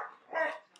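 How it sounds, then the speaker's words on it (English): A pet dog gives one short, muffled bark somewhere in the background of a quiet room, brief and fairly faint. "and you may even hear our dog"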